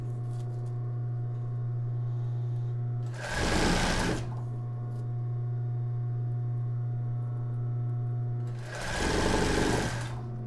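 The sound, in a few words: sewing machine stitching embroidered tulle bra with elastic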